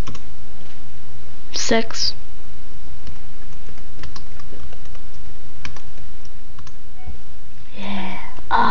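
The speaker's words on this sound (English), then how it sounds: "Type faster." Rapid keystrokes on a computer keyboard during a game session, a soft continuous patter of typing with brief louder bursts and a voice speaking briefly.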